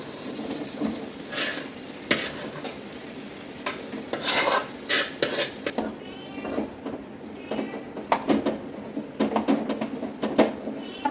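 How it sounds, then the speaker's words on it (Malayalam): Tapioca being stirred with turmeric and salt in a pot, scraping and clinking of a spoon against metal in irregular bursts, fairly close, with faint sizzling underneath and a quiet kitchen background. "കപ്പ നന്നായിട്ട് ഇളക്കി മഞ്ഞളും ഉപ്പും എല്ലായിടത്തും ആയിട്ടുണ്ട്"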